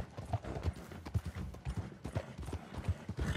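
Horse hooves clip-clopping in steady rhythmic footfalls in the video game Red Dead Redemption 2, a continuous walking gait heard fairly quietly.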